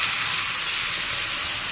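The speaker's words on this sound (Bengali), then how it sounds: "এবার আমি এই ওলকপি আলুটা এইভাবে দিয়ে দেব।" Kohlrabi and potato tipped into a pan of chilli and onion frying in oil give a loud, steady, close sizzle and hiss with no break.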